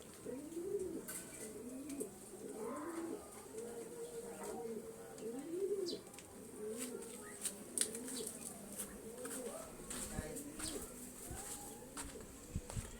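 Several racing pigeons coo in soft, repeated rolling calls, close by, with faint chirps and a voice murmuring in the background.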